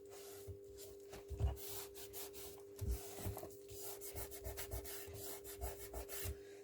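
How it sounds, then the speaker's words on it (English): Fingers rub over glued paper while making a papercraft envelope, producing soft, close scuffing strokes in an irregular rhythm, with a steady low hum underneath and no talking. "when you rub your fingers on your glued area, the warmth helps it to stick a bit more"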